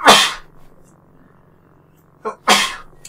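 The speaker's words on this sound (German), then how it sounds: "Ich glaube, ich muss gleich niesen." Two loud, close human sneezes separated by a couple of seconds of quiet, the second preceded by a short sharp intake of breath.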